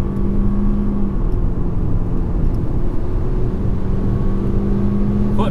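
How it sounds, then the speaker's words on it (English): The naturally aspirated four-cylinder engine of a Toyota C-HR SUV drones loudly from inside the cabin under full throttle on the Streets of Willow track, a steady, sustained road-and-engine roar. "Foot flat to the floor."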